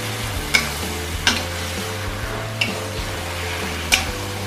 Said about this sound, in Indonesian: Kita tumis sampai bumbunya meresap ke dalam ikan asinnya.